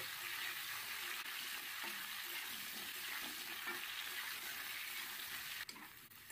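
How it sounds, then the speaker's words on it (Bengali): Potatoes dusted with a little turmeric fry in oil over a medium flame, a steady close sizzle with occasional soft stirring scrapes throughout. "এবার মিডিয়াম ফ্লেমে আলুগুলো হালকা সোনালি করে ভেজে নিতে হবে।"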